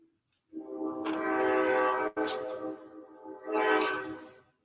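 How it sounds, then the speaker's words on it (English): A train's horn blows in long, loud, harmonic blasts, with a brief break and a second swell, as the train passes close by with no talking over it. "Comes a train."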